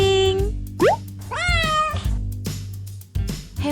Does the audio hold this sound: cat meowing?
yes